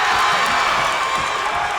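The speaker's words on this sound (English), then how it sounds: "Wow, listen to this crowd." A high school basketball crowd at Oak Ridge versus Whitehaven roars with a steady, dense wall of cheering and shouting, loud and continuous without a break.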